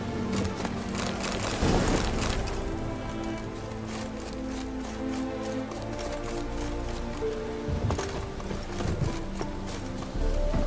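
Horse galloping in The Witcher 3 video game, a steady clip-clop of hooves running continuously under a dense layer of music and ambient game sound, with no break.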